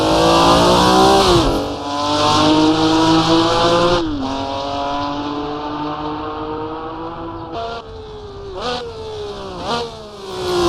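Vintage race car engine revving loudly in Assetto Corsa, a sustained harmonic drone that drops sharply on downshifts to third and then second gear, pitch climbing again between shifts, with brief tire noise; no talk.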